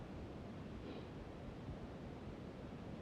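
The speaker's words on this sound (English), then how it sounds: "Got about a 30 mile an hour wind blowing." Strong wind, about 30 mph, roars steadily across an open outdoor rifle range, a loud continuous broadband rush buffeting the microphone with no gaps throughout.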